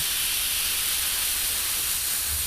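An airbrush sprays paint during a classic Revell 1/72 Lancaster model build, a steady close hiss of air and atomised paint running continuously with no pauses or talk.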